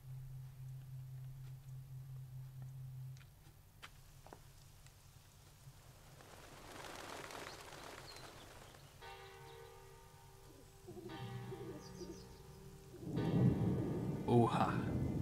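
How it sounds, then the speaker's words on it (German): Rain and rolling thunder during a storm in the video game Assassin's Creed III: Liberation, with a low rumble building and a heavy crack of thunder near the end under game sounds. "Ein Unwetter."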